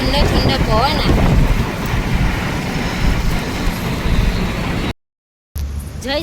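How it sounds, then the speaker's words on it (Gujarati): Cold wind blowing in through a window beside a seated person, heard as loud, blustery rushing with buffeting against the microphone, a voice speaking over it, and a brief cut to silence near the end. "બારી પાસે બેસીને કેવો ઠંડો ઠંડો પવન આવે"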